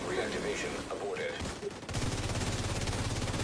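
Rapid automatic gunfire while shooting enemies in the video game Dark Hours: a steady fast-rattling burst fills the second half, loud and continuous, with a game voice and other sounds mixed in before it.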